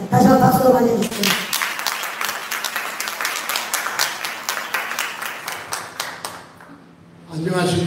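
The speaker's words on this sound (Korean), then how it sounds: "다시 한번 박수로 맞이해주십시오." An audience at a Korean-language public talk claps steadily for about five seconds to welcome a speaker, a crisp, fairly close round of applause framed by a voice talking before and after.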